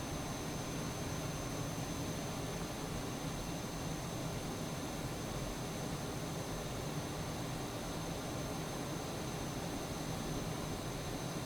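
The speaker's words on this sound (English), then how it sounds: "of course we gotta do the high performance takeoff" A light aircraft's engine roars steadily at full power during a high-performance takeoff near Harlingen in southern Texas, a constant broadband drone heard from inside the cabin with no letup.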